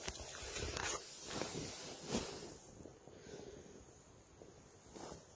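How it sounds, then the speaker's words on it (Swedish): Wind gusting against a tent at night, buffeting in uneven waves that swell and fade, fairly close and steady with no voices. "Det blåser här utanför, men det får man ta."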